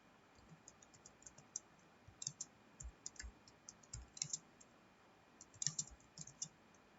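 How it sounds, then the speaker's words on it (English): Keys tapped on a computer keyboard while someone types out an HTML program in Notepad, quiet irregular clicks in short bursts with pauses between, fairly close and faint over a light background hiss. "now we'll type the program"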